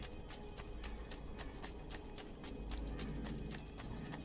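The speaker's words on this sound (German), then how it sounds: "mein gutes altes Pferd hat hier auf mich gewartet" Horse hooves clip-clop steadily in Assassin's Creed 2, a brisk run of repeated hoof strikes over a continuous background bed of game ambience, with no talking.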